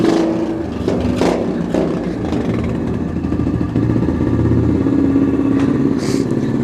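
Pit bike engine idling and revving inside a tunnel, a throaty, rumbling motor with echoing reverberation and a few louder bursts, close and fairly loud with no talking.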